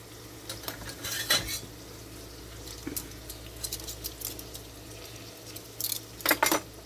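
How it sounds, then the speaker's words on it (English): Vegetables for butternut squash bisque stirred in a pot, a utensil clinking and scraping against the metal in a few scattered bursts, with two louder clusters of rattling over a quiet kitchen background. "Stir this up."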